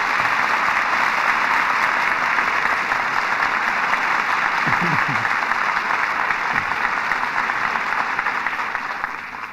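Studio audience at a radio drama show curtain call breaks into steady, dense applause, a loud continuous roar of clapping lasting throughout with a brief voice heard beneath it.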